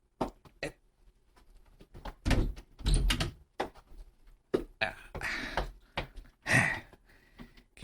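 A car door opens and thuds shut as someone climbs out of a car, with a string of close, sharp knocks and thumps, separated by short quiet gaps.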